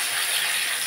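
Dry red chilies, cumin seeds and bay leaf sizzle in hot oil as a tempering for lentils, a bright, steady hiss heard close up and alone for a short moment.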